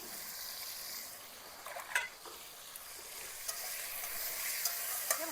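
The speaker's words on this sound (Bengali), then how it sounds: "ভাজা হওয়ার জন্য 3 থেকে 4 মিনিট সময় দেব" Potatoes fry in a pan with salt and turmeric, giving a faint, steady sizzle with a few soft stirring clicks and scrapes scattered through.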